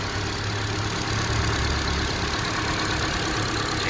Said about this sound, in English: So, this is the engine.